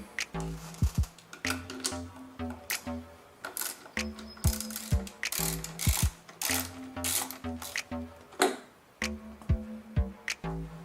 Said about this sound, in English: using an 8mm socket, we're going to go ahead and remove the 4 bolts that are holding on the throttle body